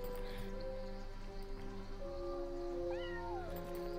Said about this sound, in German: Oh, Kätzchen?